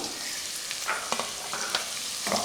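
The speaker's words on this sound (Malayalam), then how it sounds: "നന്നായിട്ടൊന്ന് വഴറ്റിയെടുക്കാം സവാള നന്നായിട്ട് ചൂടായി വന്നിട്ടുണ്ട്" Chopped onions and ginger sautéing with urad dal in a hot pan, giving a continuous low sizzle with a few short scraping stirs, close up with no talking.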